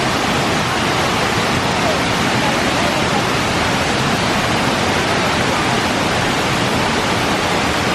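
Kuang Si Falls, a waterfall near Luang Prabang in Laos, roars in a steady, dense wash of broadband rushing water that fills the whole stretch evenly and loudly, with no pauses.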